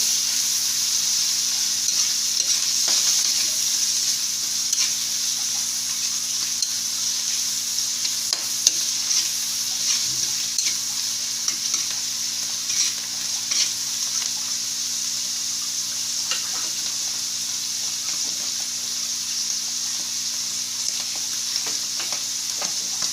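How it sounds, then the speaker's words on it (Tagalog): Pork chop with mushrooms and malunggay sautéing in a pan, giving a steady, continuous sizzle and frying hiss with occasional stirring scrapes throughout, no voices. "So, gisa lang natin ito, no? At least mga 2 minuto."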